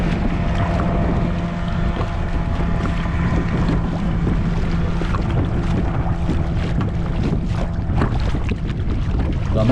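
A kayak being paddled across the Kokkilai lagoon in Sri Lanka, near where it opens to the sea, with a steady wash of water and wind noise buffeting the microphone throughout.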